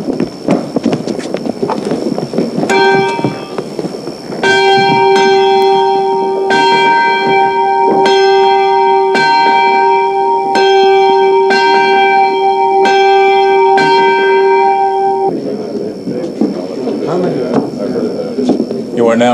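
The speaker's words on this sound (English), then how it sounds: "Toll the bell. Summon the militia." Church bell tolling to summon a colonial militia, with repeated loud, ringing strikes at a steady rhythm over several seconds; talk and faint hoof-like clatter sit around the tolling.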